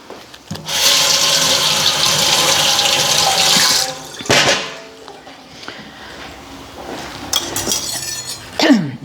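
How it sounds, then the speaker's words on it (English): A lemon washed under a running kitchen tap: steady splashing water for a few seconds, then clinks and handling sounds, with the tap turning on briefly again later, close and clear. "I'm just going to wash the lemon."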